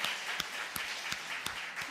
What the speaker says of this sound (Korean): 우리 뜨거운 박수로 환영해 주시길 바랍니다